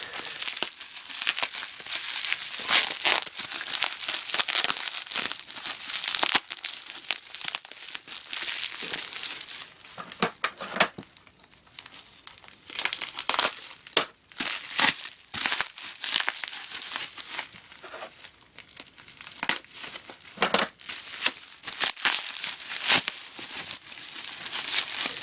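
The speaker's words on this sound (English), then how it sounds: "Bubble wrap and plastic bag on the inside here." Bubble wrap and a plastic bag are unwrapped from around a Swedish military plastic canteen, producing continuous close crinkling and crumpling with sharp rustling bursts and no talking.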